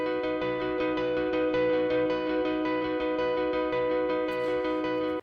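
Lower-register guitar arpeggio staying on a single chord, steady repeated plucked notes ringing together in an even rhythm, heard alone and fairly quiet.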